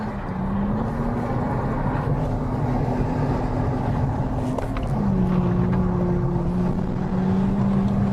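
A car engine drones steadily at close range while the driver shifts gears, and the engine pitch changes partway through. The sound is continuous with no talk over it.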